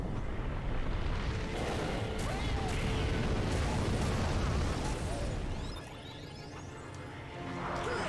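Constant booming explosions and rushing wind-like blasts roar through a Kingdom Hearts boss fight, loud and dense for several seconds before briefly easing, then swelling again.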